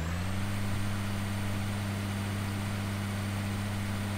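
An older truck engine in Farming Simulator 2013 drones at a steady idle with a low constant hum and faint whine, unchanging and close for the whole stretch.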